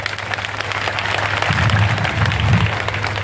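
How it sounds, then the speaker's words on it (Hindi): Applause from an audience at a school annual function, honoring children and teachers, a steady wash of clapping that holds throughout, joined by a low hum and a louder burst midway. "मैं चाहूंगा कि उन बच्चों और टीचर्स के लिए एक बार तालियां हो जाए"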